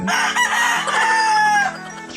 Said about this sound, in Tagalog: sumasang-ayon yung manok, sumasagot pa siya